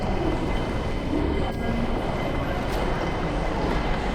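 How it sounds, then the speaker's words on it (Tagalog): A Hong Kong airport rail shuttle carrying passengers between terminals, heard as a loud, steady rumble and hum of the moving train with faint rail noise throughout, no voices. "sobrang laki ng airport nila dito na need mong mag-train"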